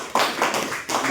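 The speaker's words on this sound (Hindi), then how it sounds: "एक बार ताली हो जाए" Short burst of audience applause at a talk or business presentation, a few loud, close claps coming in uneven bursts with brief dips between them.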